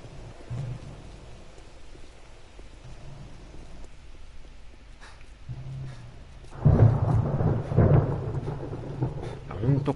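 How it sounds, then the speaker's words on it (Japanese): Rumbling thunder in the survival game 7 Days to Die: a quiet stretch of low rumble, then a loud rolling clap with rain-like hiss that swells about two-thirds through and holds. "雷だけリアルですね、この音ね。"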